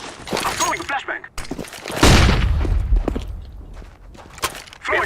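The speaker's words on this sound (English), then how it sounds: "I'm throwing a flashbang." A flashbang grenade going off in Counter-Strike: Global Offensive, a loud burst with a ringing, shattering tail that lingers for a few seconds, among game sounds and a talking voice.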